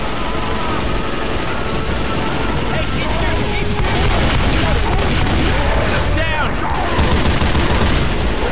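Heavy machine gun fire in Left 4 Dead 2 on the City 17 campaign, a loud continuous chatter of shots layered with booms and game noise for over eight seconds, with voices faintly mixed in.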